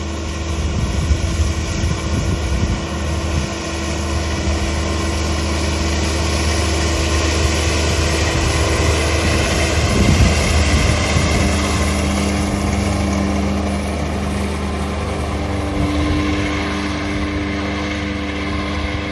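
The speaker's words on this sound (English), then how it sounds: "So I've got the Fendt 820 on the mower." A Fendt 820 tractor running with a disc mower in a field, heard as a loud, steady engine drone with a continuous whirring hum from the mower, close and unbroken the whole time.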